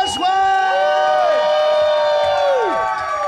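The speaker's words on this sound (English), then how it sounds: "Let's get a big round of applause for Brian Brushwood!" A live crowd at an Austin show cheers, whoops and shouts loudly and steadily throughout, while bright electronic or musical tones sweep and hold above the roar.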